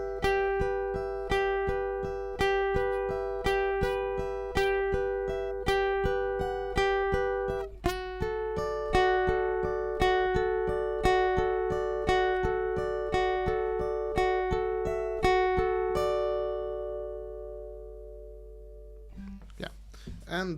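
Guitar playing the opening section of a song, a steady run of plucked single notes with ringing sustain, fairly close and clear, ending with a brief handling noise.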